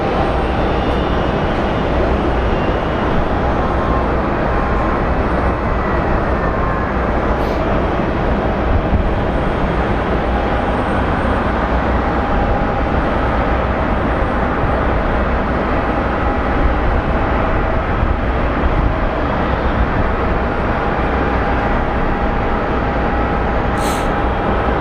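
Aircraft at Phoenix Sky Harbor International Airport produce a continuous loud jet roar that holds steady for the whole stretch, close and unbroken, with no talking.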